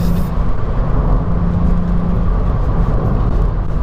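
A VW Up GTI hatchback drives on a rough road, its engine droning loudly with steady road and wind noise, briefly easing as it shifts into fifth gear.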